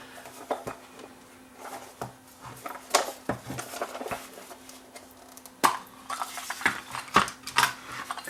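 A small screwdriver working a screw out of a plastic iHome clock radio speaker case, with close, irregular clicks, ticks and scrapes scattered through, under a faint steady hum.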